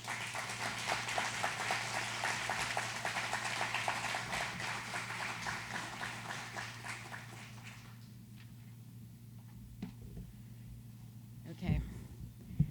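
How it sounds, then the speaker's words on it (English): Audience applause at a Better Business Bureau annual meeting after a speech, a sustained wash of clapping in a large room that thins out and fades over several seconds, with a low steady hum beneath. "Can we give Cammie another round of applause, please?"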